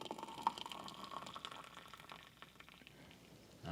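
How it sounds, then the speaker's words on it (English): Hot water poured into a cup of instant Mount Hagen coffee, a faint, close trickle and fill that starts brighter and fades, with no talk. "We're going to throw in our water here."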